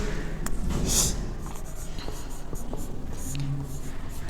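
Pen scratching out notes on paper during a physics lesson on spherical mirrors, close dry strokes in short bursts, with a teacher's voice faintly in the background.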